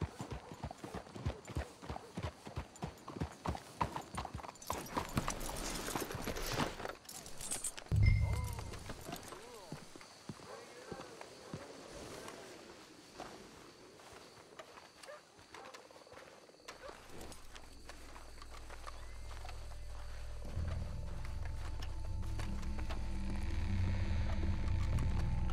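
Horses walking in Red Dead Redemption, clear rhythmic clip-clop hooves up close at the start that fade out, with talking and ambient game sound continuing afterward.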